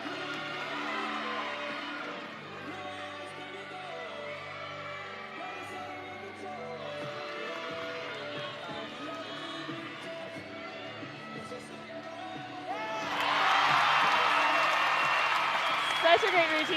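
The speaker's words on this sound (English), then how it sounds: "You can hear the crowd cheering and roaring for her." A gymnastics meet crowd cheers and roars for a routine, sustained applause and shouts under steady commentary, swelling into a louder, brighter burst of cheering near the end.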